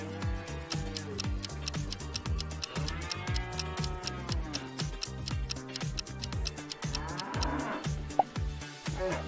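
Cattle mooing repeatedly in long, drawn-out calls over a busy, rhythmic ticking backdrop, several cows overlapping at moderate loudness.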